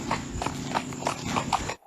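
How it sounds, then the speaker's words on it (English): A horse's hooves clip-clop at night on a street in Santa Cruz, with about six steady, evenly spaced hoofbeats at moderate distance before an abrupt stop. "I hear a horse around here."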